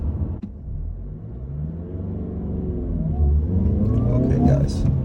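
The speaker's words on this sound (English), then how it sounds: "this car is so fun to shift through the gears" A 2018 Mazda 6 with a 6-speed manual gearbox accelerates from inside the cabin, its engine note climbing in pitch through the revs, briefly dropping at a shift, then rising again.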